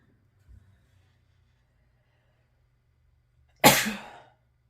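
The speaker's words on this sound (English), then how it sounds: "Sorry, I had to sneeze." A single sharp sneeze bursts out close by after a near-silent pause, preceded only by a faint soft sound.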